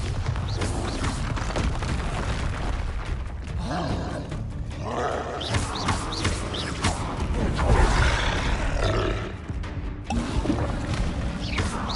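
Confringo and Bombarda spell blasts in the Hogwarts Legacy video game on PS5, heard as dense, continuous roaring explosions and crackling combat noise that stay loud throughout.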